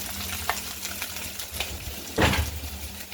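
Hot tempering oil sizzles over steamed bandi-todra dhokla in a home kitchen, with a faint stirring scrape and a brief louder hiss of oil hitting the food near the end; no one speaks.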